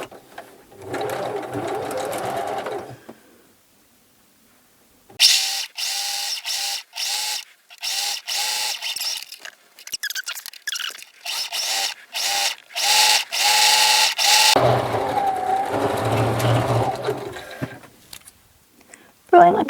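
A sewing machine stitches the side seams of a lined reversible tote bag in a run of quick, loud whirring bursts with short pauses, bracketed by a voice speaking before and after.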